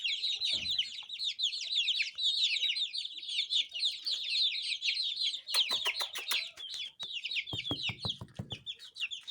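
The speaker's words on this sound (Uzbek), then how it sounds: "Jo'jalar." Chicks in a brooder box cheep in a continuous, busy chorus of high, rapid peeps, close and fairly loud, with sharp clicks and knocks breaking in partway through.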